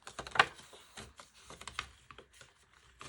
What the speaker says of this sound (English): So if I can get this money in the envelope.